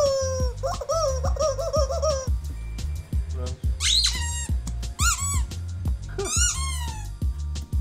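Squeaky dog toys are squeezed repeatedly, producing a run of rapid, rhythmic rubbery squeaks and longer whistling squeals, loud and close with soft handling thumps between them.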